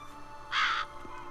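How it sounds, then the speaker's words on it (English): A single harsh crow caw in The Witcher 3: Blood and Wine, one short, clear call standing alone over a quiet ambient background. "What are the crows there for, though?"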